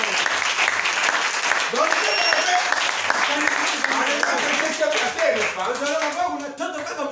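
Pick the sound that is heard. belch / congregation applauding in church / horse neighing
congregation applauding in church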